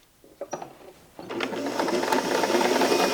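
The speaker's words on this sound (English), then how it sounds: "Sometimes I just like to sew with this gauge in my hand." A sewing machine stitches the altered waist seam of a pair of pants, starting with a few clicks and taps, then running into a steady, fast, continuous mechanical whir close by.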